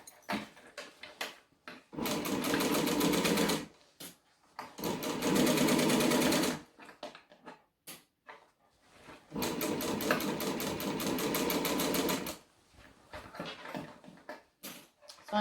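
A sewing machine stitches a large fabric bag, including back stitching, in three steady sustained bursts separated by short pauses with small handling clicks between them, running slowly and close by.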